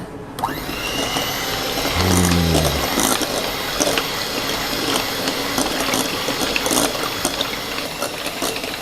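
An electric kitchen mixer whirs steadily through roll cake batter, a continuous motorized drone with rattling mechanical texture that runs close and fairly loud from start to finish.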